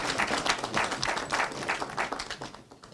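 An audience applauds at a cocoa farmers' pension board swearing-in ceremony, dense clapping sustained for a few seconds before tapering slightly.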